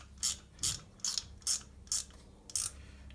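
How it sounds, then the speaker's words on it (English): Ratchet wrench tightening fittings on a Land Rover Puma 2.4 TDCi engine during a rebuild, six crisp rapid clicking bursts in an even rhythm, close and clear with no talking. "So we'll just go around and tighten these evenly."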